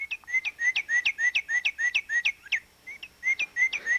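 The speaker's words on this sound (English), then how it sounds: "if you want to have peeps in your, you just touch him, and he makes that sound" An electronic toy bird built into a calculator pad gives a rapid run of high, repeated peeps, about a dozen evenly spaced chirps, a brief pause, then a few more, close and clear with no talk.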